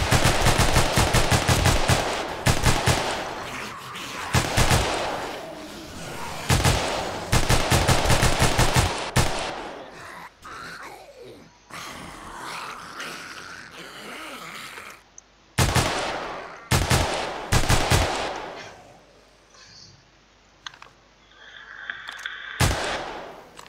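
Repeated bursts of automatic gunfire from a gun, loud and close, firing in rapid strings with short gaps, then quieter background sounds before more bursts near the end.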